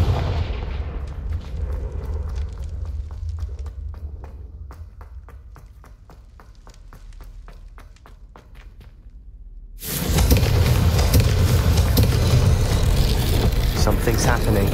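A Confringo spell in Hogwarts Legacy sounds as a sudden loud explosive blast that erupts after a stretch of quiet ticking footsteps and low ambience, then sustains as a dense roar.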